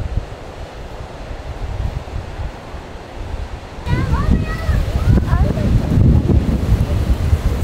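Heavy surf pounds a beach at Topsail State Park on a double red flag day, a constant loud roar that swells sharply halfway through, with wind buffeting the microphone and faint voices underneath.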